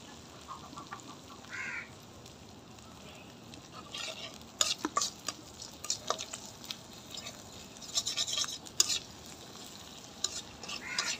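Chepa dried fish frying in oil as a spatula stirs it, a steady soft sizzle with clusters of sharper scraping and clattering strokes growing busier toward the end, close by and without speech.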